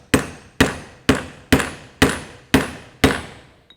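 Seven sharp, evenly spaced hammer blows ring out as a 39.5 mm bearing driver is tapped into the front wheel hub of a 1972 MGB, each strike a bright metallic clang with a short decay, close and alone.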